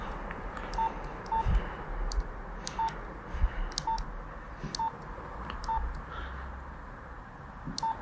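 Mobile phone keypad tones, a series of short separate beeps spaced irregularly over about eight seconds, fairly faint over a muffled background bed, with no voices.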